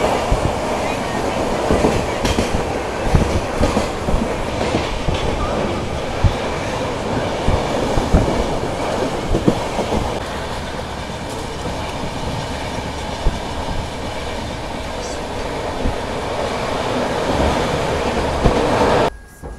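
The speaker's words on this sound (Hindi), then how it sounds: "After covering 986 kilometer, our Saurashtra mail has arrived Dadar western" The Saurashtra Mail express train pulls into Dadar station in Mumbai with steady rumbling wheels and rail clatter, loud and close throughout, and faint voices in the background.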